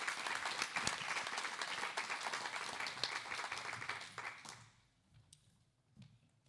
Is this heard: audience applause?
yes